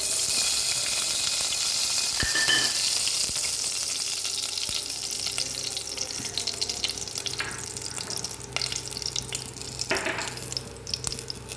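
Mustard seeds sputter and crackle in hot coconut oil in a Kerala kitchen, a steady close sizzle with scattered louder pops and brief bursts throughout, no voices.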